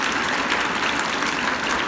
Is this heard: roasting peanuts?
no